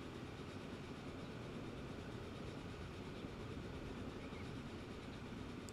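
Steady, even rumble of a train rolling along rails in the Transport Fever 2 simulation game, a continuous mechanical drone with no distinct clicks or voices.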